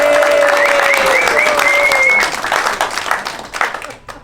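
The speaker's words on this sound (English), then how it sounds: "So he really deserves a big round of applause." A cruise ship audience on a sea day breaks into loud, dense applause that stays steady for about two seconds and then thins into scattered claps, with a few sustained tones riding above.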